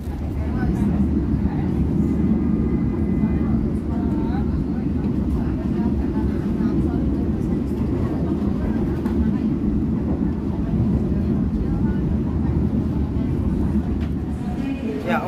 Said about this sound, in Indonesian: perjalanan kereta api Logawa yang saya naiki saat ini telah tiba di stasiun Bangil